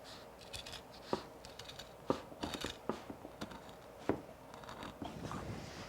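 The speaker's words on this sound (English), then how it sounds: "But I actually like to use scissors, big pair of scissors." A big pair of scissors snips and crunches through thick carpet binding in irregular bursts, close and fairly quiet, with scraping sounds between cuts.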